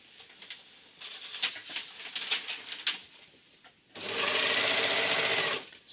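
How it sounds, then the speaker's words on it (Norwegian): A sewing machine stitches a short seam in fabric for a simple raglan sweater, with light ticking and handling first, then a steady, loud, fast whirring run of a couple of seconds. "Og så syr jeg en liten søm."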